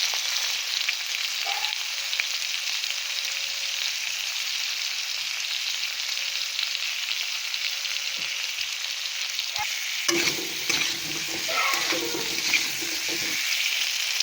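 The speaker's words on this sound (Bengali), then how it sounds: "এইবার সেদ্ধ করে রাখা আলু ভেজে নেব" Boiled potatoes fry in mustard oil with chilli powder, turmeric and salt, giving a steady, close hiss of sizzling throughout, with heavier bubbling and occasional stirring scrapes toward the end.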